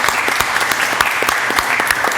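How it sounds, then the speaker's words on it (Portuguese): Audience clapping for a podcast technician, a steady patter of many hands at close range, brief and continuous with no voices over it. "eu queria pedir uma salva de palmas"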